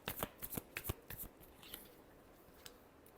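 Tarot cards shuffle in a rapid run of crisp riffling bursts that thin out into a few soft taps, close by and quiet, with no one speaking.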